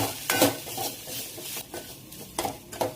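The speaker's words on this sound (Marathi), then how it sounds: "आणि आता पहिलं परतून घेते मी मसाल्यांमध्ये" Tomatoes sauté with black masala and garam masala in a pan, giving soft sizzling and intermittent stirring scrapes, fairly faint, with no talk.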